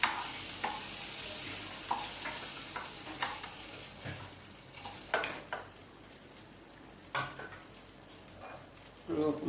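Oil frying in a pan during a live Assamese home-cooking demonstration, a steady sizzle broken by repeated scraping stirs and light clinks of a spatula against the pan, close by with no voices.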